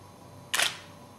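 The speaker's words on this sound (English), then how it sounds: "the sound of the shutter taking the picture and then the sound of the mirror actually going back down again." Nikon D300s DSLR in normal release mode fires a single crisp shutter and mirror clack, a quick close double snap standing out alone against a quiet room.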